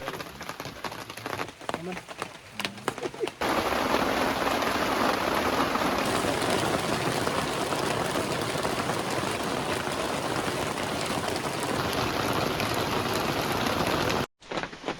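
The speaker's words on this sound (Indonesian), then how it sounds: "hujan semakin deras" Heavy rain pours steadily on a mountain trail at a hiking shelter on Mount Dempo, a dense continuous roar that follows a brief stretch of broken, patchy sound at the start.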